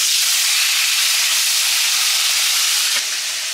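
Tilapia pieces coated in salt and turmeric hit very hot oil, producing a loud, dense, steady sizzle that hisses continuously up close, dipping slightly near the end.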